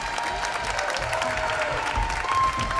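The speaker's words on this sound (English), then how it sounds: "I want you to applaud this wonderful group of students." An audience applauds a group of students on stage at a symphony concert, a steady wash of clapping that fills the whole moment without pause.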